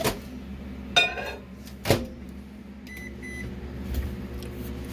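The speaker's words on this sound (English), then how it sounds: "let's get that back in the microwave" A few door clunks and a short run of beeps, then the low steady hum of a microwave oven running.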